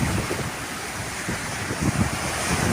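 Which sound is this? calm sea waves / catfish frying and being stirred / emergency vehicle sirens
calm sea waves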